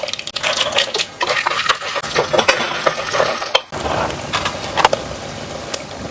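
Urad dal and chana dal fry in hot oil with mustard seeds in a pan, stirred with a spoon that scrapes and clinks. A busy crackling sizzle runs underneath, loud and close, with no voices.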